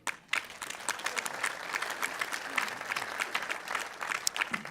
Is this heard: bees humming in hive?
no